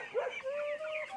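Grown chickens in a poultry farm, giving a quick, close cluck followed by a drawn-out, wavering call at a moderate level.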